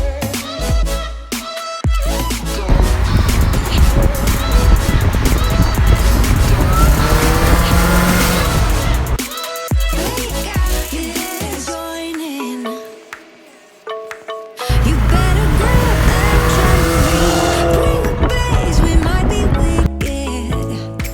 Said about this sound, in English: We are about to go ride in a 500 wheel horsepower G8.